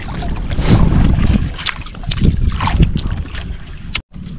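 A fishing boat (bangka) out on the water, heard as a loud, steady wash of water and wind rumble with scattered splashes and buffeting close to the microphone.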